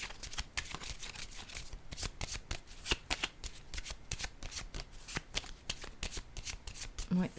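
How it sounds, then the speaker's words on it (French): Tarot cards are handled and set down on a table in a quick series of crisp, faint slaps and shuffling flicks, while a voice speaks quietly in French throughout. "Je vais déposer une autre carte ici."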